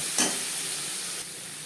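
Spices with turmeric and salt fry in a pan, giving a steady close sizzle with a brief louder burst near the start, then a slight drop in intensity.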